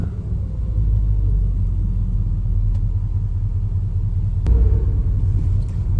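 A 1969 Camaro Super Sport engine rumbles steadily and loudly while driving, a low continuous drone with a short surge of louder engine noise near the end, without any talk.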